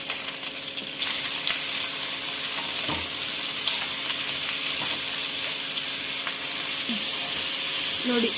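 Curry leaves, onion and capsicum fry in a pan with a continuous hissing sizzle, while occasional scrapes and taps of a spoon stirring rise above the steady crackle.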